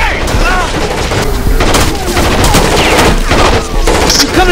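Dense, continuous automatic gunfire in the video game Rainbow Six Vegas 2, loud and sustained, with overlapping shots and booms filling the whole stretch and faint voices underneath.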